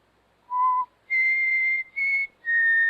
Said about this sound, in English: I just whistled.